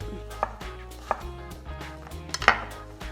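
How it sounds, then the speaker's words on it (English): Knife cutting a cucumber into quarters on a board, several sharp, close chops spaced unevenly with light knocks and clatter between, no talking. "The way I like to cut my cucumber is in quarters, like that."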